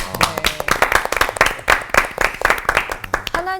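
A studio audience at a Korean church talk show claps in a lively, slightly uneven patter of sharp hand strikes, with a voice starting at the very end.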